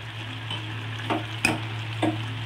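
A spoon scrapes through a pan of prawn and potato curry several times, each stroke a soft scrape over a steady low hum and a faint sizzle.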